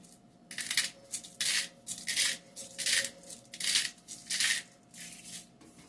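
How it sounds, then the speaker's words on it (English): A salt and pepper grinder cranks over sirloin burger patties in bursts of gritty crunching, about eight rhythmic grinds in quick succession, close and clear in a quiet kitchen. "then we're going to do salt and pepper with the grinder here."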